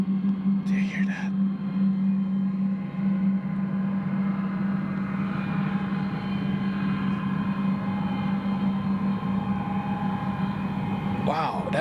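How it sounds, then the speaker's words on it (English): A small boat speeds up on the Westerschelde estuary in the Netherlands, its engine a loud jet-like roar that holds as a steady, heavy drone through the whole stretch, with faint brief sounds near the start and end. "That was a little boat speeding up. What the hell is in that thing? It's like a jet engine."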